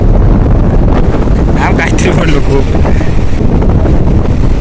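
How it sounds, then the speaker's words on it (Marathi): Strong wind on a beach at Gavkhadi, Rajapur, Konkan coast, buffets the microphone in a loud, continuous roar, with faint voices briefly audible beneath the gusts. "सुसाट एकदम वारा"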